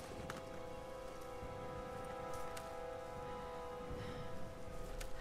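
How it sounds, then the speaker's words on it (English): Steady rain pouring in Tomb Raider, a constant dense hiss with scattered droplet patter and a faint tonal hum underneath, no voices. "the rain is washing all that blood off from earlier"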